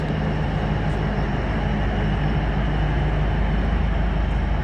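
Train rumbling steadily along the Beed–Nagar–Amalner rail route in Maharashtra, a continuous loud low rolling roar of wheels and carriages throughout with no pauses.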